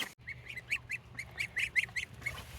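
Young brown Chinese geese, three to four weeks old, give a run of about a dozen short, high peeping calls in quick irregular succession, close and fairly clear over a low background rumble.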